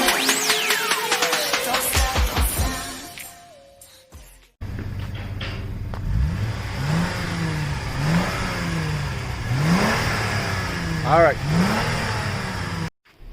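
A 2009 Lexus IS 250 AWD with its muffler deleted revs repeatedly, its engine note rising and falling in a series of loud, rhythmic blips over a rumbling idle, with voices talking around it.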